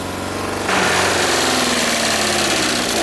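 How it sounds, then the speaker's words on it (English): A new BMW car engine with paint used as engine oil, opened to full throttle, starting as a steady loud drone and then jumping to a harsher, louder sustained roar that holds close and continuous. "Alright, so this is full throttle."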